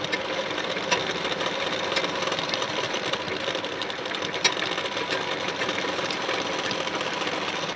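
A sewing machine stitches a blouse piece, running at a steady, even buzzing pace with faint rhythmic ticking throughout and no pauses, fairly close but moderate in volume.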